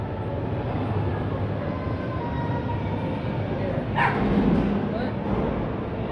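A single bark from a dog exhibit at a museum sounds briefly over a steady wash of indoor crowd and room noise.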